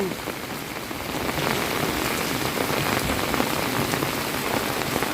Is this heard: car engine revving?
no